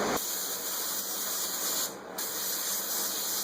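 Continuous close hiss of an airbrush spraying paint onto a taxidermy turkey head, steady and loud with one brief dip in the flow midway, no voices.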